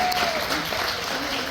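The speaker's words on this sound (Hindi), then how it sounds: "सो एक बार खुद के लिए जोरदार तालियां लगा दीजिए।" Sustained applause from an audience at a meet-and-greet event in Calgary, Canada, a dense, steady wash of clapping with crowd murmur and a faint voice underneath throughout.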